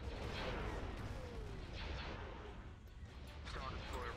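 Weapon fire in the Star Wars game Thrawn's Revenge: a dense, continuous rumble of distant booming artillery-like shots and explosions, with a voice faintly talking over it.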